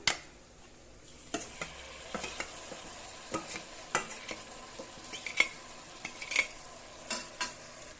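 Marinated mutton stirred into browned onions frying in a pressure cooker pot for biryani: a soft sizzle runs under irregular, close spoon scrapes and clinks against the metal.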